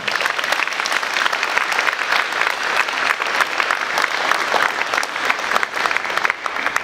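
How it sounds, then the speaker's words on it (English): Loud, sustained applause from a large crowd at a school district board meeting, steady clapping filling the whole stretch with no pauses. "Can we give everybody a big round of applause?"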